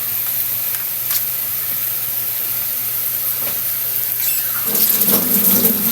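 Water runs steadily from a kitchen tap during rinsing while a chicken dish is being cooked, a continuous hiss that swells louder and more splashy near the end, with no talk.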